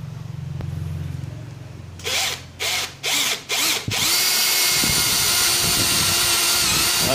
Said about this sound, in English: Let's use this 13mm drill bit.